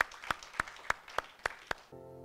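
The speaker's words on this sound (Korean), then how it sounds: "오늘 또 이 귀중한 어버이날을 주신 우리 하나님께 감사의 박수를 한번 하십시다" A church congregation at a Korean Parents' Day service claps together in unison, seven evenly spaced sharp claps, fairly faint, then a brief musical tone.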